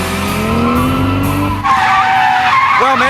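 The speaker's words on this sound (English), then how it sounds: "This is a JZX90 Toyota Chaser" A Toyota Chaser JZX90 skidding around cones at Ebisu circuit, loud engine revving and rising, then sharp sustained tire squeals close by, no talk.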